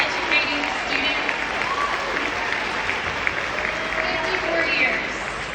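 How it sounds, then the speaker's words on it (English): A crowd at an alumni award ceremony breaks into sustained applause, a dense, loud wash of many hands clapping that holds steady for several seconds without talk. "can we give her a round of applause for 54 years of dedicating her life to educating students?"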